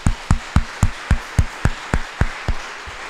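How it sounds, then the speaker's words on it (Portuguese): A single pair of hands claps slowly and evenly for a couple after a talk, about a dozen sharp, spaced claps in a steady rhythm, close and clear with no crowd around them. "Uma salva de palmas para eles."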